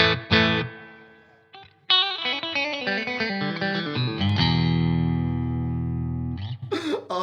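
A Fender Vintera electric guitar played through the bridge and neck pickups together: a strummed chord, then a quick run of picked notes and a long sustained ringing chord, finishing with a few short bright plucks, close and clear.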